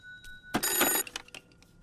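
A telephone rings with a loud, close electronic ring lasting about half a second, followed by a few shorter trailing bursts that fade out.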